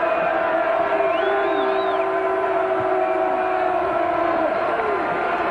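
Steady roar of a packed college football stadium crowd during a 1981 Notre Dame at Michigan game, a dense continuous wash of noise with faint whistles rising above it, no talking heard.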